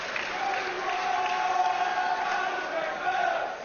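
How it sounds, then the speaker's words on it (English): Crowd at an amateur boxing final cheering and chanting between rounds, a steady dense roar of many voices with rising shouts, sustained throughout. "It's certainly got the crowd cheering and chanting."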